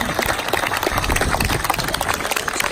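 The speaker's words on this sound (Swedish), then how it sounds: "Jag menar, en applåd på det." An audience at an award ceremony bursts into loud, sustained applause, dense clapping from many hands that carries evenly throughout with no speech over it.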